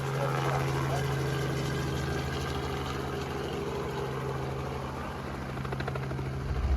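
A helicopter drones steadily in flight, its rotor thumping loud and continuous throughout with a low engine hum underneath.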